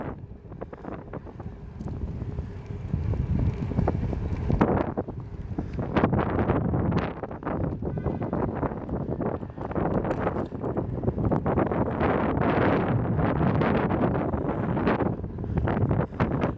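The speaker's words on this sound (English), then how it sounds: "It's windy in Newburgh." Strong wind buffets the microphone outdoors in Newburgh, a continuous loud rumbling roar with gusty crackles and no voices.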